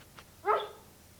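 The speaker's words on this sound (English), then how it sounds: "a dog called Rusty" A single short bark from a farm dog, fairly close and clear against a quiet background.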